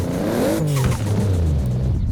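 Toyota Supra engine in Forza Horizon 4 revving up, a loud, close whirring growl that climbs in pitch, dips, then holds a steady drone for about two seconds with no voices.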